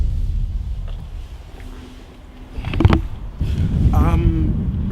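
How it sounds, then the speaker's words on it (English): Strong wind blows outdoors near a hardware store, buffeting the microphone with a steady low roar that dips briefly and then surges back, with a few faint outdoor sounds mixed in. "It's really windy out here."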